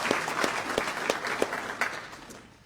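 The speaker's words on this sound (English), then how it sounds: "Let's give him a round of applause." Applause from a crowd at a military change of command ceremony, steady clapping with a few sharper claps standing out, filling the whole moment without talk.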